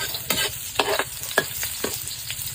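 Garlic, onion and ginger sauté in a hot pan with a steady sizzle, broken by five or six distinct stirring scrapes at a slow, uneven rhythm, close and clear, with no talking.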